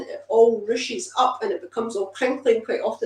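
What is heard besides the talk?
No distinct noise like a dog, phone or traffic.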